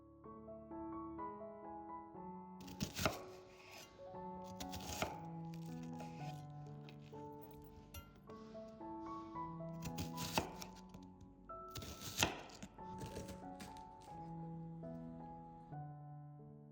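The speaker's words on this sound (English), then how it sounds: "Next, I chop the onion." A kitchen knife chops an onion on a board in a few sharp bursts of cuts, set against steady background music.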